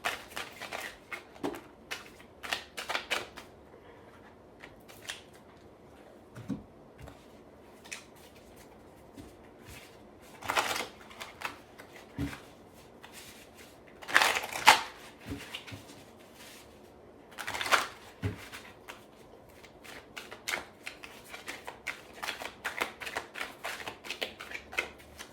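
A tarot deck is shuffled in scattered, intermittent bursts of soft card riffling and slapping, close by and fairly quiet, with gaps of near-silence between the louder shuffles.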